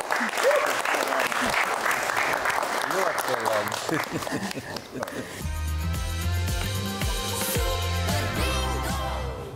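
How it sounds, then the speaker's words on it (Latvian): Loud, sustained applause from a TV bingo game-show studio audience, steady clapping filling the room while a voice talks over it at the start. "Un Lilā komanda sagaida ar ļoti skaļiem aplausiem"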